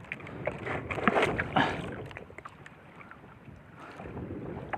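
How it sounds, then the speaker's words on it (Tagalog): Steady strong wind roars across the microphone with broadband gusts and buffeting, over a low rumble of a small fishing boat turning on the Pacific Ocean near a beach, with no voices. "Malakas ng hangin"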